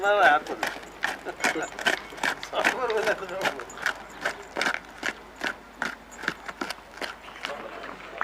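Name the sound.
horse and cart hooves clip-clopping in Petra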